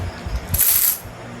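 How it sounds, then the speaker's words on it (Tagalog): A handful of loose coins drops and jingles together in a brief, bright metallic clatter, close by, with faint low thumps just before and no talking. "Puro barya yan guys"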